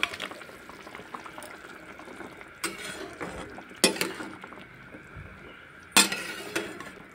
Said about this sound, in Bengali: এখন আমি ভেজে রাখা পটলগুলোকে দিয়ে দেব ঝোলের মধ্যে।